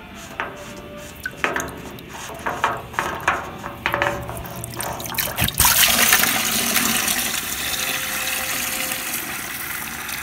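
Several metallic clicks and knocks come first as a diesel fuel tank is handled, then a sudden gushing pour of rusty water, diesel residue and Dawn dish soap drains out and continues as a steady splashing flow.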